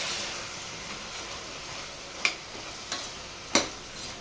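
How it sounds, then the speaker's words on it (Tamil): Ginger garlic paste frying in a pan gives a quiet, steady sizzle, with three sharp spoon scrapes and clinks near the end as it is stirred. "சேர்த்துட்டு இதையும் ஒரு தடவை மிக்ஸ் பண்ணி விட்டுக்கலாம்."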